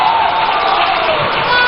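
Applause and cheering from a crowd honouring a dignitary at a Ghanaian NDC political rally, a steady, dense wash of clapping that fills the whole moment at close range and high volume.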